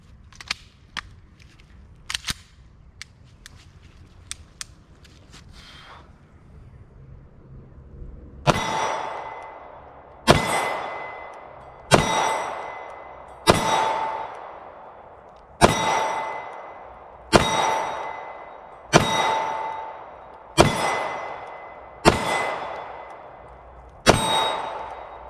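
A Staccato P pistol fires a slow, evenly spaced string of sharp, loud shots outdoors, each crack ringing briefly before the next, after a few quieter clicks and handling noises.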